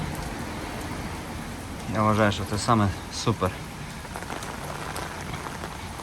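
Rain falls steadily on a street in Yokohama, Japan, a constant patter of drops on pavement running throughout, while someone speaks briefly in the middle over it.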